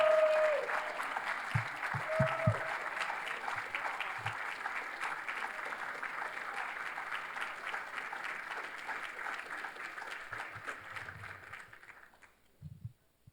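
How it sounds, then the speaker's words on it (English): A crowd applauds at a Harvard College midyear graduates celebration, sustained even clapping with a brief whoop near the start, fading out just before the end, with a few faint voices underneath. "Could everyone please give him another round of applause?"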